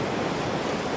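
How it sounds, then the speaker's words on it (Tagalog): Strong water rushes loudly and continuously at Armenia Dam, a dense, steady roar close by with no voices over it. "Nakita ko kasi lakas-lakas ng tubig dito"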